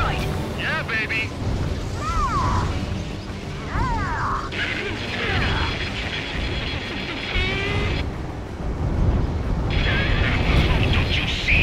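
Rumbling explosions and crashes from the video game Ace Combat 7: Skies Unknown, as a rail cannon is destroyed, blend with loud music and radio chatter, with people talking throughout.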